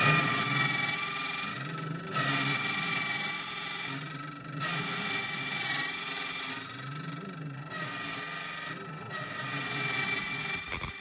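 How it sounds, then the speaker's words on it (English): An ITL950C key code machine runs its spinning cutting wheel through a key, giving a steady mechanical whir that swells and eases in repeated passes, close and alone. "cutting wheel is spinning now"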